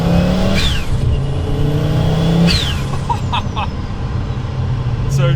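A 550HP Audi Sport Quattro turbo engine revs and surges loudly, its pitch rising and falling in repeated swells with the whoosh of the car moving, no voices present.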